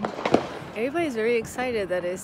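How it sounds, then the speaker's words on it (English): New Year's fireworks going off in a neighborhood, with a few sharp cracks near the start before a person speaks excitedly over the remaining quieter noise. "Fireworks. It's not gunshots."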